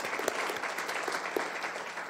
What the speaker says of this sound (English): Round of applause for Wade pulling the speaker series together